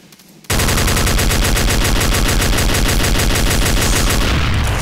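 Rapid-fire sniper rifle shots in Garry's Mod, a loud, continuous machine-gun-like stream of evenly spaced shots bursting in suddenly after a brief quiet moment and holding steady to the end.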